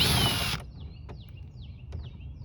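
A power drill runs loudly for about half a second to back out a Torx screw from a 2021 C8 Corvette hard top, then cuts off, leaving faint quiet clicks and handling noise.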